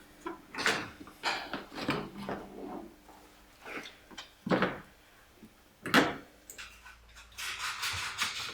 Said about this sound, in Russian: И снимаем пластик.